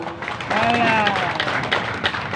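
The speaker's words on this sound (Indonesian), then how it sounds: "boleh tepuk tangan untuk calon nomor 1 dan 2" Audience applause for candidates at a public regency-head election debate, a sustained wash of clapping with a voice speaking over it.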